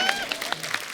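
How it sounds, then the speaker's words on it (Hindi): A studio audience on a comedy talk show claps in a brief burst of applause lasting about a second, with tonal sounds mixed in underneath. "तालियां।"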